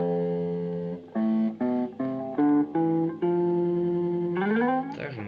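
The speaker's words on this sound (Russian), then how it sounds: "Импровизация на бас-гитаре в гамме." A Boston bass guitar improvises within a scale through a cheap combo amplifier, playing a run of distinct sustained notes, some held and one sliding upward, clear and up close without speech.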